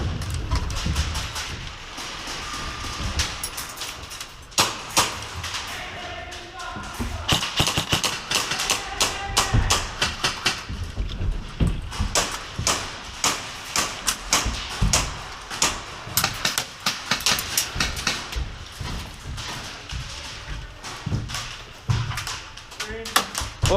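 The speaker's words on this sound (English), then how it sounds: "You can hear the ricochets. They're actually starting to shoot up in this tower." Airsoft BBs ricochet off a plywood tower in a Utah milsim city match, a rapid scatter of sharp taps and thuds, some near and loud, others faint, with gunfire and activity around.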